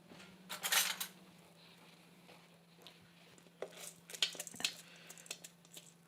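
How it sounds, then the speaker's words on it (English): Rinsed green lentils tipped into a large saucepan: a short rattling pour near the start, then scattered clinks and small clatters of pot and utensils, close and alone. "We're going to transfer all of our lentils into"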